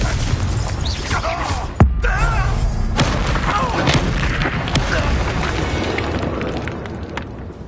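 Fiery Confringo spell blasts in Hogwarts Legacy, a sharp explosive boom near the two-second mark within dense, continuous battle noise.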